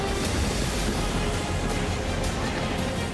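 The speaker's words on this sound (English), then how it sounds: "Test 1, stomp your feet. Louder, louder, louder." Crowd at a prize ceremony for startup pitches stomping their feet, a dense, loud, continuous roar of thuds with no single beats standing out.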